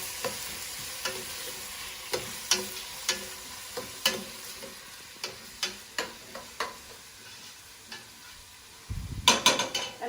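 Onions browning over high heat in a pan for a Middle Eastern eggplant dish, a quiet sizzle under repeated sharp taps and scrapes of a utensil against the pan, louder clattering at the end.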